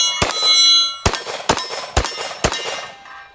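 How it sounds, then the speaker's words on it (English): An unsuppressed .45 pistol fires five sharp, loud reports, one and then four in quick succession, each cracking and ringing briefly outdoors, with no talk. "something I haven't really done a whole lot with this gun is shoot it unsuppressed"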